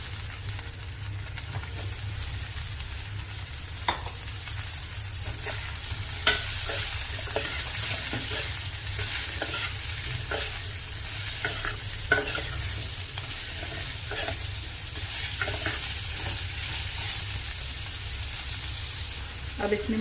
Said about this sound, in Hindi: प्याज हल्का सा भुन चुका है तो अब इसमें डाल देंगे आलू और गोभी